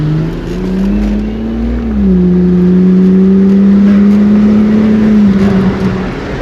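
A loud Holden VL turbo car engine revs up on a dyno and holds a steady droning pitch, dipping briefly, then settles, with no talking.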